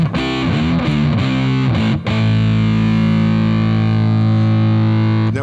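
A distorted electric guitar on a double-neck instrument plays a few bent, wavering notes, then rings out on a loud sustained chord, close and alone.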